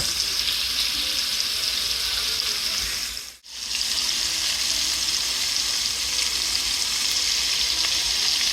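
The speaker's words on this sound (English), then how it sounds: "Now we're gonna sear some more." Pork chops sear in a hot pan with a steady, loud, close sizzle that dips briefly partway through, then continues unbroken to the end.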